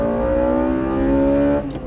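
A Honda Integra Type R engine holds a loud, high-pitched rev with a steady harmonic drone, then drops off abruptly near the end as the gear changes with the tyres spinning.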